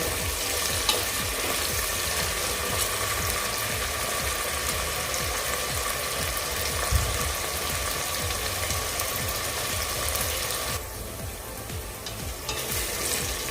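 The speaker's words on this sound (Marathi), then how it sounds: "आपला कांदा सॉफ्ट होईपर्यंत आपल्याला परतून घ्यायचा आहे" Onion sautés in a pan over a medium flame with a constant, dense sizzle and crackle, steady throughout at moderate volume, a brief dip near the end and no one talking.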